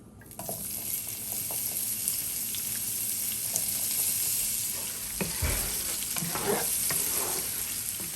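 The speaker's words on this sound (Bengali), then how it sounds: "এখন দিয়ে দিব আমি এলাচ আর দারচিনি, অনিয়ন দিয়ে দিব।" Onion frying with cardamom and cinnamon in oil in a pan while biryani is being prepared, sizzling steadily throughout with occasional stirring scrapes and a brief louder clatter near the middle.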